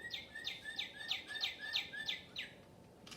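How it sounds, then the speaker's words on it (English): A small bird chirps high in a tree, a quick evenly spaced run of about nine bright, clear chirps, moderately close and alone against a quiet background. "All he heard was a small bird chirping from high in the tree."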